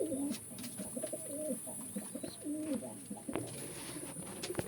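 Pigeons in a pigeon farm loft give repeated close, soft cooing calls over a quiet background, with no talking.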